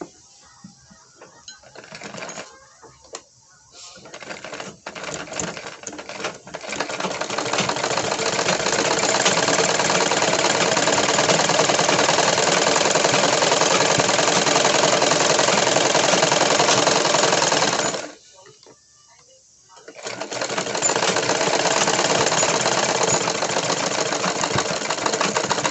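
A sewing machine stitches the sleeve of a woolen kurti during a fitting alteration. It gives a steady, fast mechanical whir that stops briefly after a short start, and the run near the end is long and continuous.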